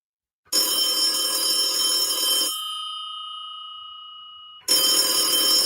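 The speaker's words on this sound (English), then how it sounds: "Ring the phone again, Kyle." A telephone on a sports talk show rings with a loud, bright electronic trill for two seconds, fades into a ringing decay, then starts a second ring.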